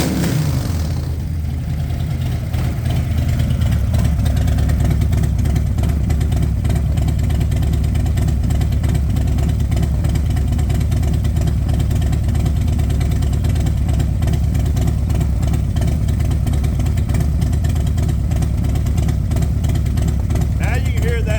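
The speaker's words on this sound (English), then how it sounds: "Now you can hear that lope in it. That's when she's good and warmed up." A warmed-up chopper motorcycle engine idles close by with a steady, uneven lope, running continuously throughout without pause.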